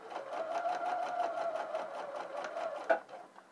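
Sewing machine stitching bias binding onto seams, a steady close whirring hum with rapid rhythmic needle ticks, ending with a brief clunk and slowdown.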